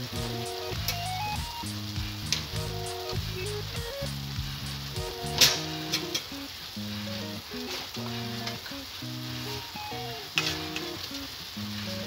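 Spices such as salt, turmeric, cumin and Kashmiri chilli powder sautéing with winter vegetables in a pan: a steady close sizzle with occasional stirring clinks and scrapes, over a background of constant musical tones.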